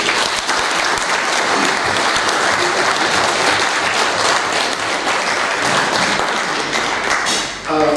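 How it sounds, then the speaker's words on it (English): Loud, sustained audience applause fills a hall at the inauguration of a Nigerian pension industry leadership council, steady clapping from a large crowd with no speech over it. "we'd like to give the agents another resounding round of applause"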